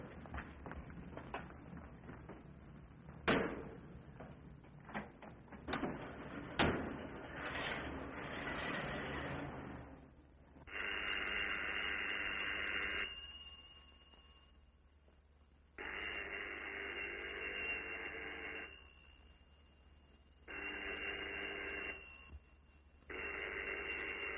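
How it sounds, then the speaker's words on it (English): A telephone rings on and off in repeated electronic bursts separated by short pauses, steady and moderately loud, after a stretch of muffled street-like noise and thumps, with no talking. "Phone's been ringing for 10 minutes."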